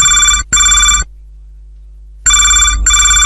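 An electronic telephone ringtone for a radio call-in line to Hello FM Betul chirps loudly in two paired bursts, falls silent, then repeats the double ring.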